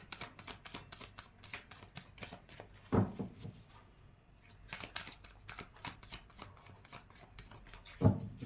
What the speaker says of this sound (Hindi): my last shuffle